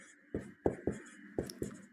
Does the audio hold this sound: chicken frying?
no